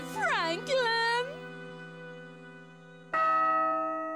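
A clear bell rings once with a sustained, slowly fading tone, then strikes again near the end. A voice with rising and falling pitch is heard at the start, in an animated cartoon setting.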